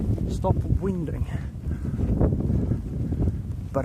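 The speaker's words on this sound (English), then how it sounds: "A lot of wind noise." Gusty wind buffets the microphone with low rumbling bursts while someone speaks briefly underneath, outdoors while ice fishing.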